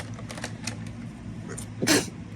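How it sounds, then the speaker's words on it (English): A single person sneezes once, a brief loud burst near the end that stands out over a low steady background hum, with no talking around it. "I gotta sneeze"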